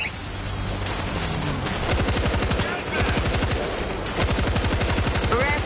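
A mounted gun in the zombie shooter World War Z Aftermath fires long, rapid, loud bursts that rattle almost without pause, with short gaps between volleys amid other battle noise.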